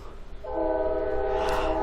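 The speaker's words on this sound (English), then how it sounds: "And that's a train, so just if you wondered." A train horn sounds from a distance, a steady multi-tone blast that starts partway in and holds to the end over a low rumble.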